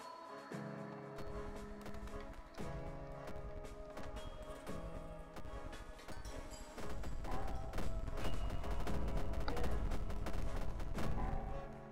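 Rapid gunfire bursts and shots in the video game Nuclear Contingency, crackling under dense layered game music and effects, growing louder and heavier in the second half.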